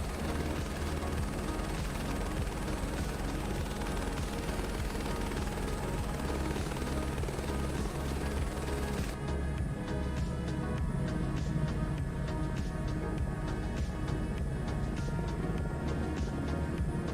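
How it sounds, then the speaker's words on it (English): Helicopter in the Microsoft Flight Simulator 2024 video game cruising over the Grand Canyon, a steady close rotor thrum with a dense engine whine that continues without a break throughout. "We've made a pretty good amount of distance so far in this helicopter."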